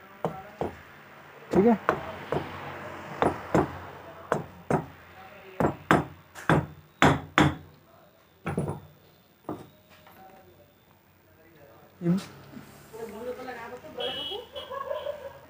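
A mallet knocks repeatedly while a submersible water pump motor is fitted, giving a string of sharp close thuds in uneven bursts. Someone talks between and over the blows.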